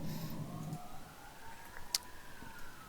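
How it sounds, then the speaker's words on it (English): Police sirens wail faintly outside, a thin rising-and-falling tone behind steady background noise, distant and continuous with one brief sharp click midway. "the sirens are interfering with my cast"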